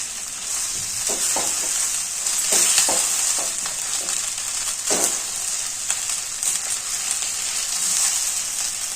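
Tomato upma is stirred in a hot pan, with a spoon scraping and tapping in irregular strokes over a continuous close sizzle of frying.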